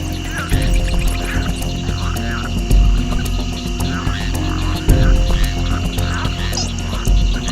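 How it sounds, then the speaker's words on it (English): Frogs croak steadily in a dense nighttime chorus, layered over a low throbbing rumble and a constant insect-like hum, filling the scene at close range without pause. "frogs try to stay hidden or reduce their calls to a brief low-frequency rumble"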